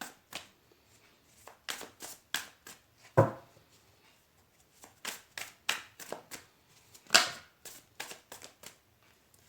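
Tarot cards are shuffled by hand close up, a run of crisp riffling bursts and slaps repeating at an uneven rhythm, with no talk.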